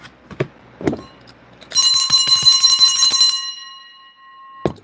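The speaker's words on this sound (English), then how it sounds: "Let me ring this bell one more time." A hand bell rung during a psychic reading: a burst of rapid, bright strikes that then rings on and slowly fades, with a few soft knocks before and after.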